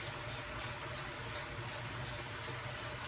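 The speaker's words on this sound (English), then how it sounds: "I'm going to take my spray paint, point it away, and just kind of spray it" Spray paint hisses steadily from a can aimed at a tumbler, a continuous close and fairly loud airy spray held for several seconds with slight pulsing, no voices.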